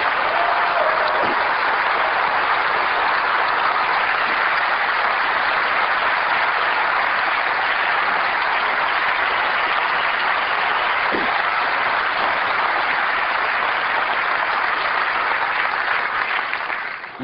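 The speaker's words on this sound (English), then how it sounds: "I would like to give a round of applause to all of our software engineers in the audience." Applause from a keynote audience at a 1999 Apple special event, honoring the software engineers, rolls on as one long, sustained wash of clapping that stays loud and unbroken before easing off at the very end.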